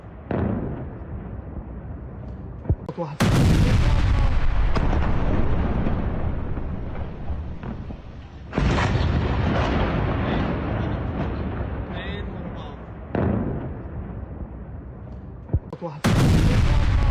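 Israeli airstrike bombardment on a military base at Tartus, heard as repeated heavy booming blasts and roaring explosions, each swelling loud then rumbling on, with sharp cracks between and faint voices in the background.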